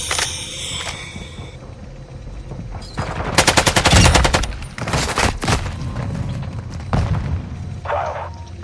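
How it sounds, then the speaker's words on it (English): Gunfire in the video game Call of Duty: Modern Warfare II, a loud sustained automatic burst followed by several separate shots and thuds, close and punchy over game ambience. "You guys were all shooting this direction."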